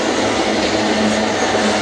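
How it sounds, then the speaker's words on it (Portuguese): Heavy iron-ore freight train hauled by ES44ACi and AC44i locomotives at full throttle, slowing as it climbs a steep grade out of a tunnel; a loud, steady diesel roar with a constant low engine drone close by. "O trem já está diminuindo a velocidade"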